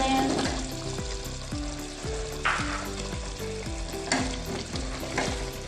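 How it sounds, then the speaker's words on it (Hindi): Mutton and potatoes for aloo gosht fry in a pot with a continuous close sizzle, stirred now and then, over a faint tonal background with no talking. "अब इसकी अच्छे से भुनाई कर लेनी है"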